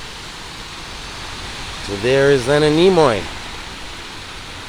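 Cemetery waterfalls rushing in a steady broadband hiss, constant and moderately loud, with someone speaking briefly over the flowing water.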